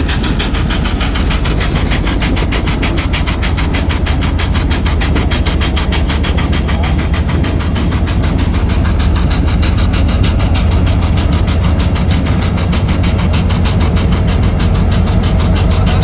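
Union Pacific 4014 steam locomotive meeting another train on a line across Arkansas, with a loud, steady rumble of engines and rolling cars filling the whole stretch without a break.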